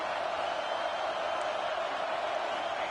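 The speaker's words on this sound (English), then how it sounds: "The Tide crowd rolling noise down onto Saban Field on 3rd down." Football stadium crowd at Saban Field on third down, a dense, constant roar of noise that stays loud and uniform without breaks.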